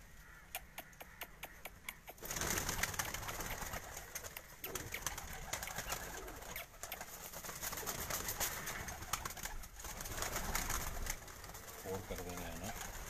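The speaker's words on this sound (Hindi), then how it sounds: "ये दोनों बेबी पिजन जो हैं इन्हों अंदर करो। हाँ जरा परले कबूतर अंदर करो।" Pigeons at a Punjab rooftop pigeon-flying competition, with soft cooing and scattered bird calls under someone talking, amid a windy outdoor background that swells loud after the first couple of seconds.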